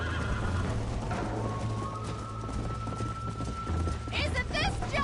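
Red Dead Redemption horses neigh and whinny with steady clip-clopping hooves beneath, a sharp whinny bursting out near the end, and voices speak over the riding.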